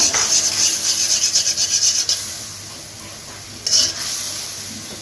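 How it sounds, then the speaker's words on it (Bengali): Spices and turmeric powder are stirred and sautéed in a pan while cooking vegetable khichuri, giving a steady scraping, rasping sizzle with a louder scrape near the end. "এটা একটু এখন কষাই দেবো।"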